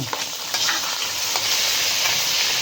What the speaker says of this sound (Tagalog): Maglagay na natin ng mantika guys. So yan guys, gigisin na natin guys ang bawang.